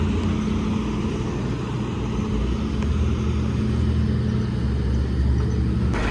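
A car engine idles steadily after being started, a low continuous rumble with a slight rise in level midway, close and unbroken, no voices.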